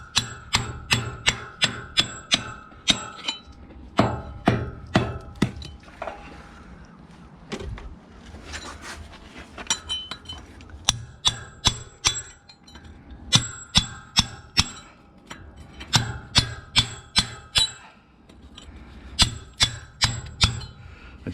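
Repeated sharp hammer-and-chisel strikes chop down a raised, slightly proud spot on a patio slab that was pre-scored with an angle grinder, the blows coming in quick bursts with brief pauses, loud and close.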